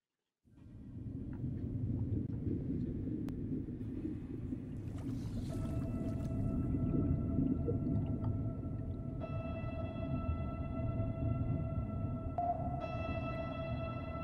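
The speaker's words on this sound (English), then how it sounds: "whales from all around the Pacific Ocean travel a long way to gather and sing to each other in their particular dialects" Whales sing in the Pacific Ocean over a deep, constant underwater rumble. Long sustained tonal calls rise out of the noise in the second half, with no voices present.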